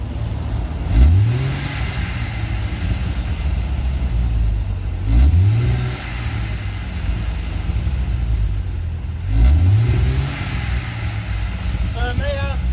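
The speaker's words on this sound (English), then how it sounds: "Give it a couple revs." Car engine revved three times in a row while parked, each blip rising sharply in pitch and falling back to a loud, rough idle, with people talking nearby in between.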